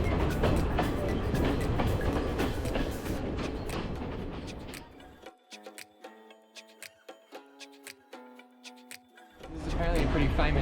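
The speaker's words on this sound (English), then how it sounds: "This is apparently a pretty famous train line." A train on a Sri Lankan railway line passes close by, a loud rumbling roar that drops away into a rhythmic clickety-clack of wheels over rail joints before the rush returns.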